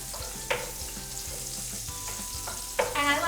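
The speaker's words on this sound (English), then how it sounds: "We're just going to saute these guys up." Cremini mushrooms sizzle in hot bacon fat as they sauté, a steady crackling fry with a few sharp stirring clatters of a utensil against the pan, close and clear without talk.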